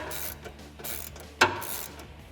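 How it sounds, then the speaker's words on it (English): A ratcheting 13mm swivel socket tightens exhaust hanger bolts under a Jeep Wrangler JL 3.6L during an MBRP axle-back install, giving faint mechanical clicking, a few soft passes and one sharp close metallic clack midway. "we can tighten up our hangers using that 13mm swivel socket"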